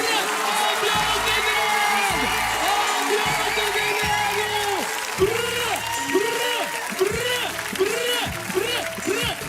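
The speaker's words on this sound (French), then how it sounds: "On peut l'applaudir très très fort." A lively audience claps loudly and cheers with whoops for a French comedian's entrance on a comedy stage, as booming music with strong bass pulses plays underneath throughout.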